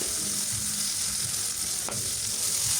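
Onion, green chili and ginger-garlic paste fry in hot oil with a dense, steady, close sizzle, soft stirring knocks and one brief click underneath, and no speech.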